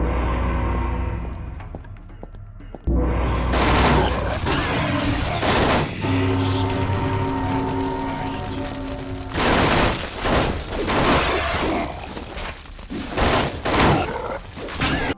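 Rapid gunfire from the first-person shooter Necrovision Lost Company, dense volleys and bursts of shots with booming impacts and mechanical clatter running nearly continuously, loud and close.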